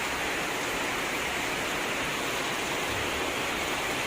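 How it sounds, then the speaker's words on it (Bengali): Heavy evening rain pours down in Comilla, Bangladesh, as an even, dense hiss that fills the whole scene without a break. "এটা প্রচুর বৃষ্টি হইতেছে"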